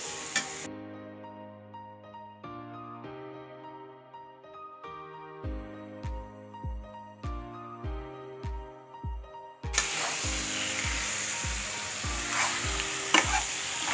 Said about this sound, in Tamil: நல்லா கிளறி விட்டுக்கலாங்க